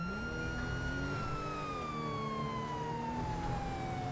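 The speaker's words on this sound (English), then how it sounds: "Have my sirens. They're there." Police car siren in the LSPDFR mod for GTA V, a continuous wailing tone sliding slowly downward over steady road and engine noise, loud and sustained with no talk.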